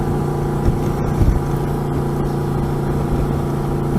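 A motorcycle engine drones steadily on a ride through East Orlando, with a brief louder rev surge early on and an even mid-pitched roar throughout, close by and with no talking.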